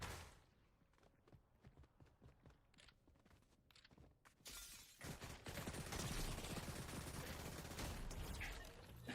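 Gunfire in a PlayStation video game, scattered sharp shots at first, then a dense, louder burst of rapid fire with crashing impacts.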